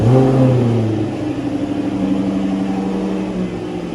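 An Overfinch car with a switchable enhanced exhaust fires up close by, its engine note rising loudly and then settling into a steady, rumbling drone.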